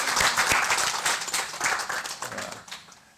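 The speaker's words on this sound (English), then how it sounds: "Give them a round of applause." An audience bursts into a short round of dense clapping that stays loud for a couple of seconds, then thins and fades away.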